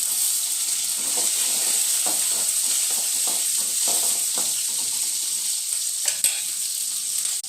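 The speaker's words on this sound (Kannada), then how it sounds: "ಒಂದು ಹಾಕಿ ಹಸಿಮೆಣ್ಸಿನ್ಕಾಯಿ ಹಾಕಬೇಕು." Green chillies added to oil with reddened garlic sizzle steadily and loudly up close, with a constant bright hiss and scattered crackles and stirring clicks throughout, and no voices.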